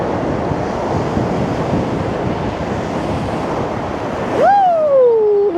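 Storm waves crashing along the Blackpool seafront during Storm Lilian, a loud continuous roar of surf and gusting wind close by, then a sharp whistling tone near the end.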